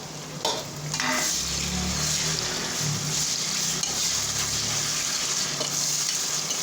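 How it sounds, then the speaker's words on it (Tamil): Tomatoes drop into a hot pan with a thud, then a loud, steady sizzle of frying carries on under scraping and stirring strokes, close and continuous with no voices. "இப்போ மறுபடியும் நம்ம என்ன ஆட் பண்ண போகிறாங்கன்னா தக்காளி, அந்த தக்காளியை உள்ளே போடுறாங்க"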